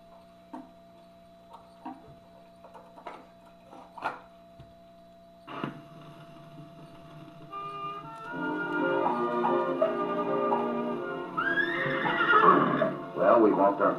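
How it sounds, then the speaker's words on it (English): Horses in an old radio western ride into town. Hooves clip-clop slowly at first, then a busier stretch of hoofbeats and movement, topped by a loud whinny near the end. "we walked our horses all the way into town"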